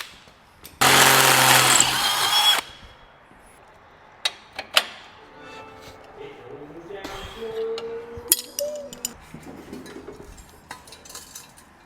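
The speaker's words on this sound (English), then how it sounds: "Time to drill this side, do the same exact thing." A power drill bores bolt holes for a Chevy air ride suspension in a home garage, one loud, steady whine of about two seconds, followed by metallic clanks, tool handling and some talk.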